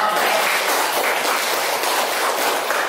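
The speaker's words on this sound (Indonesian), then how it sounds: "Oke, tepuk tangan dulu teman-teman" Classmates in an Islamic studies lesson clap together, a dense steady burst of applause filling the room close by for a few seconds.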